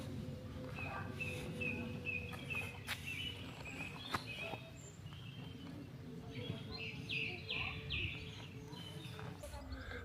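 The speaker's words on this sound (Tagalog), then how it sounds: "Plus yung huni ng ibon." Birds chirp and whistle in short repeated phrases across a manor garden in Ticehurst, East Sussex, moderately distant over a steady outdoor background hum.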